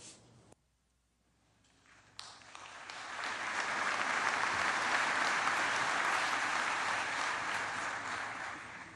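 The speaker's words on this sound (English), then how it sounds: "let's give the band and the chorus another round of applause" Crowd applause for the band and chorus at an outdoor Memorial Day ceremony in Washington, D.C., beginning after a quiet moment, swelling quickly into broad, sustained clapping from a large audience that holds steady to the end.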